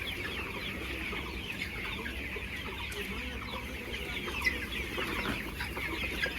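A flock of five-week-old broiler chickens clucking steadily and continuously, a dense close chorus of soft clucks with no talking.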